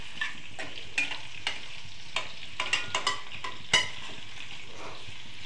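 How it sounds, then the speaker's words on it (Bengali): Capsicum pieces sizzle in a pan, fried after paneer, under a steady hiss punctuated by repeated sharp scrapes and clicks of a spatula as it's stirred. "ক্যাপসিকামগুলো নাড়তে ভাজা হয়ে যাচ্ছে।"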